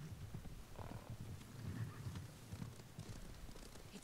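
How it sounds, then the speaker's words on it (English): Horses gallop in the Ghost of Tsushima video game, a low rumbling clatter of hooves that is steady and fairly faint, mixed with ambient game sounds. "Horses, they're coming for us."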